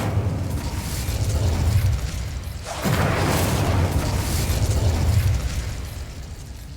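An Incendio fire spell blast in Hogwarts Legacy, a loud whooshing burst of flame that swells, briefly drops, then erupts again into a sustained roaring rush over low game ambience.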